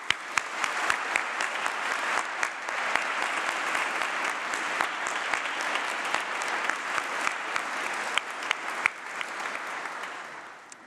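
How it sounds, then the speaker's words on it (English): A large graduation ceremony audience in a great hall applauds steadily, a broad, even wash of many hands clapping with a few sharper claps, fading slightly at the end, with no voices. "please join me in giving them a big round of applause"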